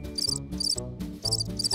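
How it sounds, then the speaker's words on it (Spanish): A cricket chirps in short, evenly spaced bursts, four quick trills in under two seconds, sounding over a soft, sustained musical background with no talking. "Me parece que es un grillo."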